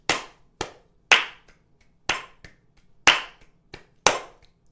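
Hand claps at 60 BPM in pairs, each beat marked by two sharp, close claps, crisp and near, repeating evenly with no talking.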